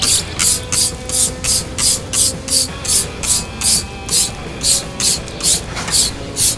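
Car wheel cleaner is sprayed onto the wheel, tire and wheel well in a steady series of about sixteen sharp hissing trigger bursts, loud and close, evenly spaced.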